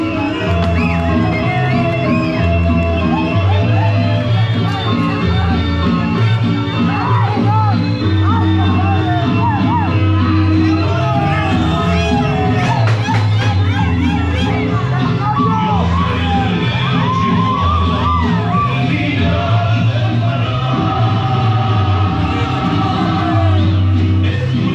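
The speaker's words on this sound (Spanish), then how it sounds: "¡Fuerte aplauso para recibirlo, Chihuahua!" A loud, dense crowd at a 2023 Ballet Folklórico de Tomatlán folk dance show in Tizapán el Alto shouts, whoops and cheers without a break, with voices and an amplified announcer mixed into the roar.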